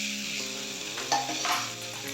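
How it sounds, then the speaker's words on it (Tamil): Mashed potato and vegetable cutlet stuffing fries in a pan, a steady close sizzle broken by scraping stirs of a spoon or spatula, with no voices. "இப்போ இதை நல்லா நம்ம ஃப்ரை பண்ணி எடுத்துக்கலாம், ஒன்றோடு ஒன்று மிக்ஸ் ஆகிற மாதிரி"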